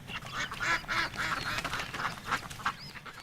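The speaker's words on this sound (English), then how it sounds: "The snow geese make a big flap about it." Snow geese call in the Arctic with a flock of nasal honks and cackles overlapping at moderate distance, some wing flapping mixed in, and no talk.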